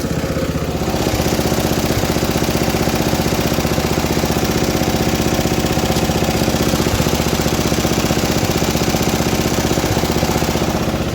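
Vintage MTD ride-on mower engine running steadily at idle, a loud continuous mechanical chug with rapid knocking pulses throughout, starting slightly quieter then holding an even level with no voices.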